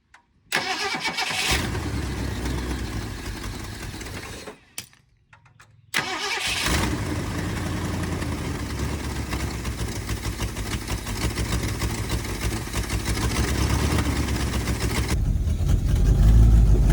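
An abandoned 1970 Mustang V8 is cranked and starts, then drops out briefly before catching again and running at a loud, rough idle that swells slightly toward the end.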